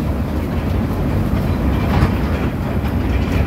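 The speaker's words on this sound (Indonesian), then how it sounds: "Ini kereta," A mini train runs at Jungle Land amusement park in Sentul City, Bogor, Indonesia, giving a steady, fairly loud rolling rumble with faint rhythmic clatter throughout and no voices.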